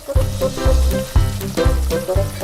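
Loud, steady sizzling of squid frying in a hot wok, with rhythmic scraping and stirring bursts about every half second.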